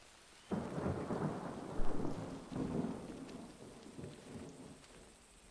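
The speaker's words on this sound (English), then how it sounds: "So no one heard that thunder like me?" A deep thunder rumble rolls in suddenly over steady rainfall in a video game, swelling with a second crack before fading. Rain patters on a surface throughout, and no one speaks.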